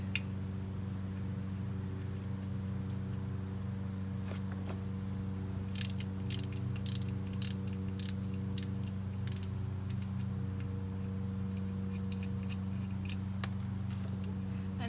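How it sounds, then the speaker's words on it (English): Ratchet with a 3/8 inch extension loosening a front differential fill plug, producing rapid clicking bursts over a steady low hum, close and moderately quiet. "I have a 3/8 inch extension on this ratchet, and I'm going to go ahead and just take this plug out"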